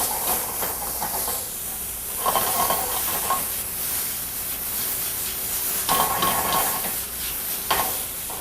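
Little onions sizzle in hot oil, a strong steady hiss with swelling bursts of louder frying and occasional stirring rubs, no voices present.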